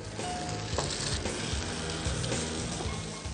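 Dahi kabab tikkis fry in ghee in a pan, a steady, close sizzle and crackle with a few soft shifts as they are turned, and no talk.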